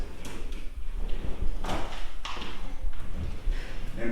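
A soft-close kitchen drawer slides and settles shut, several muffled sliding strokes and gentle thuds in a room, moderately loud and close.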